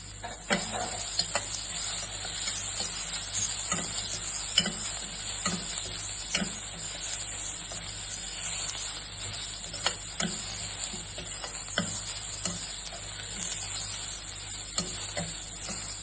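Onion, garlic, ginger and green chili fry in a pan with a steady sizzle, and a utensil scrapes and taps against the pan at irregular intervals throughout, close up and without speech.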